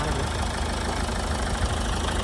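A continuous low idle from a 2017/18 Ford EcoSport Titanium diesel engine with a rough, knocking rumble, steady and close, without speech.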